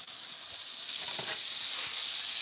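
Walleye (pickerel) fillets sizzle steadily in a frying pan, a dense, continuous hiss of hot fat that holds at an even, fairly loud level throughout with no talk over it.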